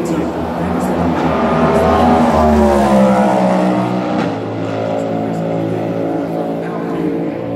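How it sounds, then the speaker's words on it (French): Porsche and Cadillac hypercars run on the Le Mans circuit during 2025 qualifying Hyperpole, a loud, sustained engine howl that rises and falls as cars pass, with voices talking over it. "Still Porsche leading right now from Cadillac, Kirsten Charity."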